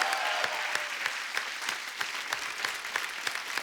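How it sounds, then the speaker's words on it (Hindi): A studio audience on The Kapil Sharma Show applauds steadily, a dense patter of clapping at moderate distance, with a few louder individual claps standing out. "पहले तो इस बात के लिए तालियां।"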